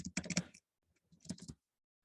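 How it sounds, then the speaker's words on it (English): Fingers type an email address on a computer keyboard in two quick bursts of close, crisp key clicks separated by a short pause. "let me type my email address"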